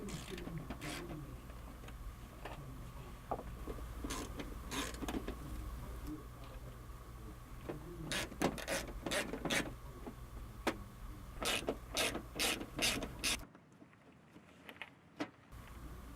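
Plastic fasteners on a Ford F150 fender liner being worked loose with a tool, giving a string of close clicks and ratcheting snaps over a faint hum, followed by a brief drop to near silence and then more clicks.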